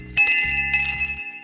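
An old Bay State School bell on a farm rings loud and close, several bright metallic strikes in quick succession with lingering ringing tones between them.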